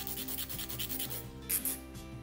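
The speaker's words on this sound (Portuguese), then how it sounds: "Lixo até acertar bem essa parte" Quick, rhythmic scratchy strokes of hand sanding on a fiberglass edge, close and fairly quiet, repeating back and forth about five times a second.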